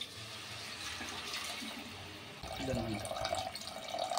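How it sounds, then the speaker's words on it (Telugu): Water being poured from a measured jug into a pot of mutton paya curry made from goat trotters, starting soft and becoming a louder splashing fill partway through, with no talking. "వాటర్ అయితే వేసుకోవాలండి ఇందులో."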